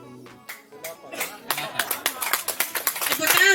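A crowd at a campaign visit to a village in Nabire breaks into applause, scattered claps at first and then quickly building into dense, rapid clapping that grows louder toward the end.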